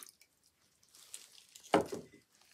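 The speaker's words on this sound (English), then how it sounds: "I'm going to pour that in there." Gray dye mixture poured into a pot of water holding soaking wool yarn skeins, a brief close splash and gurgle of liquid entering water, preceded by faint quiet handling sounds.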